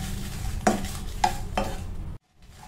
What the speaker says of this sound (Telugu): ఇప్పుడు ఇది ఫ్రై అయిపోయింది.